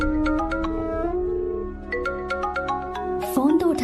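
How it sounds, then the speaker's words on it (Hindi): A mobile phone ringtone plays a bright, melodic sequence of tones close by, repeating its phrase before a voice and other sounds cut in near the end. "फोन तो उठा ले।"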